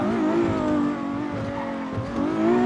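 A loud, roaring car engine blends with a sustained tire squeal, holding steady for a couple of seconds with slight rises in intensity.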